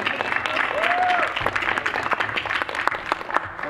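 An audience claps for an artist being introduced at a teen panel event. The applause is dense and continuous, with many overlapping hands and no voices.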